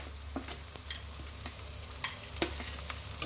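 Onion, green chili and curry leaves frying in a pan for a Telugu ridge gourd and chickpea curry, a steady low sizzle broken by a few soft stirring scrapes, close by with no talk.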